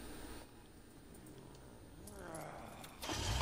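Car keys jangle inside a car in the video game Resident Evil 7, a short metallic rattle over quiet game ambience that swells louder near the end.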